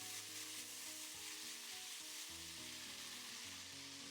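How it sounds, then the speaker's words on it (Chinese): Scallion, ginger and garlic with a spoonful of soybean paste stir-frying in oil in a wok, a steady close sizzle over a low, uneven clatter of stirring throughout, no voices. "往里面加入1勺黄豆酱，继续翻炒，炒出酱香味。"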